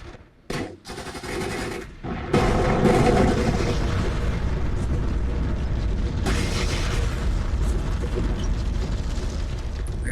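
Mortar rounds exploding in the DCS Frontlines combat game, a few sharp early impacts and then a dense, sustained rumble of blasts and mechanical clatter that stays loud and steady.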